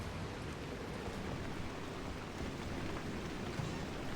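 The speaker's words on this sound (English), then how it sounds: "Oh, it's so rainy." Steady rain falls in a video game, an even, close hiss of downpour with a low rumble beneath and no voices.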